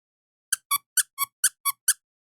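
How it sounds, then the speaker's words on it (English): A squeaky toy squeezed seven times in a quick, even rhythm, each short high-pitched squeak sounding close and clear against silence. "if I squeeze you, do you squeak?"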